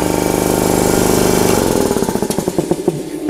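A competitor's 7.5 horsepower air compressor runs loudly and steadily, its dense mechanical drone breaking into a rapid pulsing chug toward the end, with no talk over it.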